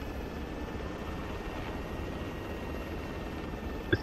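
A helicopter in the video game Arma 3 drones faintly and steadily with an even whooshing rotor hum, a quiet constant background with a brief click near the end.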